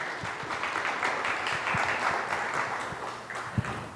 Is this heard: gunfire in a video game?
no